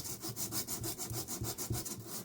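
A 120-grit DA sanding disc on a piece of marble, giving a close, rhythmic rasping scrub in quick regular strokes.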